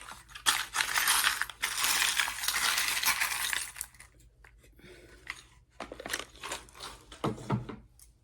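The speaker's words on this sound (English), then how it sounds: "So let's get some charms out here." Small metal tarot charms tumble and clatter out onto a surface in bursts of jingling and rattling, loud and close, then a few quieter scattered clinks as pieces settle, with no talking.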